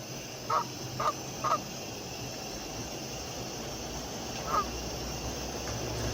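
A goose honks four times, three in quick succession and one more after a pause, fairly distant over steady outdoor background noise near a passing train.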